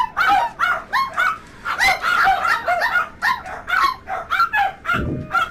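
Dogs bark loudly and close in a rapid, continuous volley of overlapping woofs and yips over about five seconds, with no one talking.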